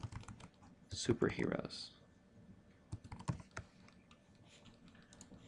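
Keys clatter on a computer keyboard as text is typed into an image editor, a short burst of close, light clicks mixed with a speaking voice.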